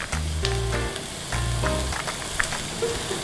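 Chopped onions and curry paste sizzle in a hot pan for a Chinese takeaway-style curry sauce, a steady, close hiss running throughout with faint tonal hum beneath.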